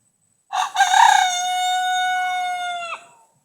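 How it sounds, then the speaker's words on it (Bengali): A village rooster crows loudly and close at hot midday near green rice fields, one long drawn-out cock-a-doodle-doo rising sharply then holding steady before cutting off. "উত্তপ্ত দুপুরবেলা মোরগ ডাকতেছে।"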